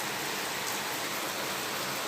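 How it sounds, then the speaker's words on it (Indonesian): Rain falls steadily outside in a dense, even hiss, close and constant with no voices. "sini lagi hujan guys, jadi mohon maaf ya."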